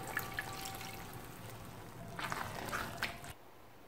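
A small amount of water poured into a simmering Chettinad banana flower kootu curry with lentils, a soft close trickle and splash in two brief bursts over quiet kitchen background, ending abruptly.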